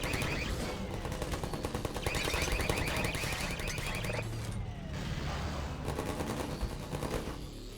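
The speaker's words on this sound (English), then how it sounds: "we've got sentry guns taking out antlions, as per Nova Prospekt" Sentry guns in the video game Half-Life 2 fire at antlions, rapid mechanical bursts with chattering and whirring under dense game noise, moderately loud throughout.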